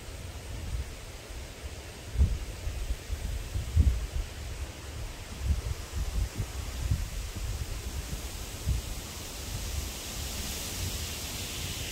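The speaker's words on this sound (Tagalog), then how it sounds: "Lakas po ng hangin." Steady wind sweeps through foliage with a continuous rustling hiss, broken by a few low gusty thumps against the microphone.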